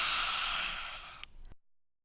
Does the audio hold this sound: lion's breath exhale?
yes